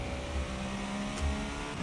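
An Acura GTP prototype race car engine in iRacing holds a steady, buzzing drone at high revs, close and continuous, with slight swells in pitch.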